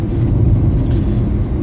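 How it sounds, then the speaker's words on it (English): Car passing on a mountain road in Japan, a loud close low rumble of engine and tires sweeping by in a brief continuous wash, with no talk. "Comes another car."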